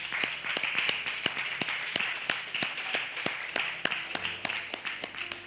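A congregation claps steadily for the Lord at a francophone church service, sharp rhythmic handclaps repeating about twice a second over a crowd murmur, continuous and fairly loud throughout.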